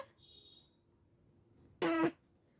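A child imitates a cough with one short, loud, rasping throat-clearing burst after a brief faint vocal sound and quiet.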